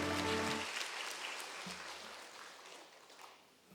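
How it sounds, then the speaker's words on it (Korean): A church congregation claps together during a Wednesday worship service, a dense burst of hands that slowly fades over a few seconds, with a voice heard briefly at the start. "우리 노아한테 박수 한번 다시 한번 더 주세요"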